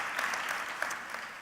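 An audience at a tech keynote claps in a brief burst of steady applause, a dense even patter heard at moderate distance.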